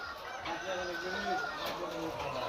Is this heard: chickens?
yes